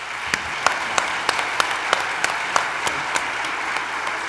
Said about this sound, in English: Give me a round of applause for our panelists.